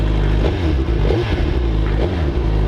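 Steady low rumble of a 2022 Suzuki Hayabusa engine idling around 1500 RPM, close and loud with slight pitch wobbles, no voices.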